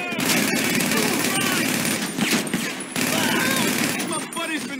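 Gunfire in GTA 5, dense rapid shots and bursts crackling almost continuously with a short break midway, mixed with other game noise and overlapping voices.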